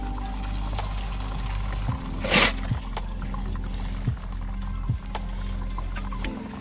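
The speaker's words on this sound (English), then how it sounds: "pour the used acid into a filter" Used acid from a gold-extraction process is poured into a filter, giving a short splashing pour over a steady low hum, with a few soft clunks around it.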